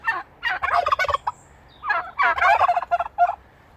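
A group of farm turkeys gobble loudly and close by in rapid, overlapping bursts, with a short pause between two long runs of rattling calls.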